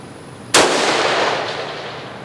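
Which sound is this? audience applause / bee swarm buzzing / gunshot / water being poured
gunshot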